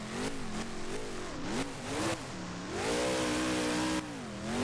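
A monster truck engine roars and revs hard in BeamNG Drive stadium freestyle, pitch climbing and dropping through repeated throttle blips, loud and close with brief tire noise.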